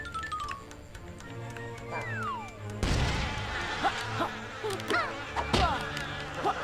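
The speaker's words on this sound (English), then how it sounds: "Okay, go away, bees." Bees buzz in Yooka-Laylee: a steady insect-like hum runs under game music, with sharp impact and crash effects bursting in partway through.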